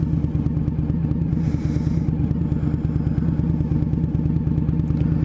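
A motorcycle being ridden on a cold day, its engine rumbling steadily and loud throughout with a constant low drone and some clatter, no talking.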